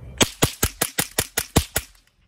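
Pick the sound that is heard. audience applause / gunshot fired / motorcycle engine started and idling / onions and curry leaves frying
gunshot fired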